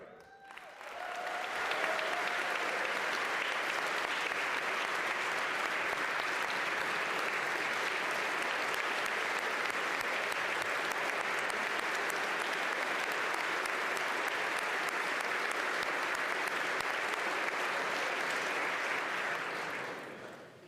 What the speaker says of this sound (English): y'all are real smart to clap for her